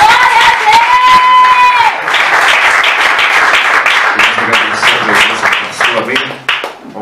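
A church congregation breaks into joyful applause, loud sustained clapping with cheers and whoops, while a voice sings or calls out over it at the start and the clapping thins toward the end.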